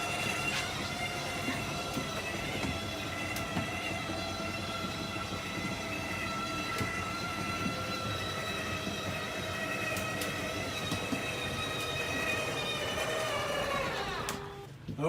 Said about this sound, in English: you hear the motor of this start to wind down a little bit